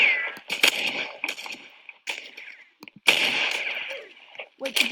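Gunfire from shooting at an enemy in a video game: a handful of sharp, loud shots spaced irregularly across the moment, with bright ringing tones and game sound effects between them.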